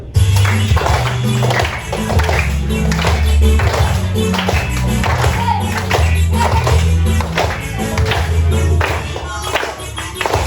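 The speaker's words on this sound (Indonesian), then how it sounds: "Kita tepuk dulu." Rhythmic hand clapping by a class in an Indonesian school lesson, a steady run of sharp claps kept up for about ten seconds with a loud, busy room sound underneath.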